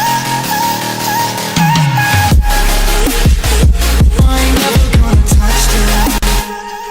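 The second drop of an electronic track plays without percussion, carrying deep sustained bass, a hovering pad and chopped vocal fragments, loud and dense throughout with no talking over it.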